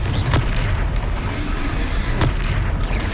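Booming blasts from a Confringo fire spell in a wizard video game, a dense rumbling roar with a couple of sharper bursts, loud and continuous with no talking.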